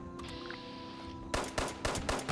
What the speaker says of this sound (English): I think I shot like 5 bullets, all with VATS, all missed